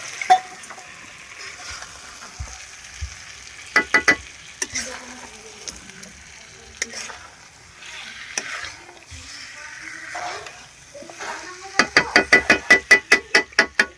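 Chicken fries in a pot over a clay village stove, a steady sizzle broken by bursts of rapid rhythmic scraping and stirring, close and fairly loud.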